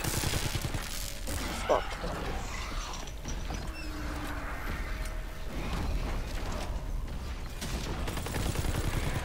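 Gunfire from a World War II zombie shooter game, dense bursts crackling under a player's talk and a sharp exclamation.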